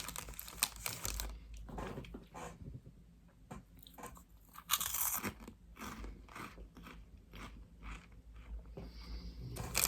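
Gum is chewed right up close, giving quiet, wet smacking and crunchy bites in an uneven rhythm, with no talking.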